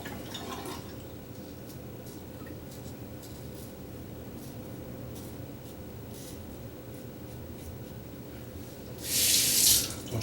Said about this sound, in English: And rinse off.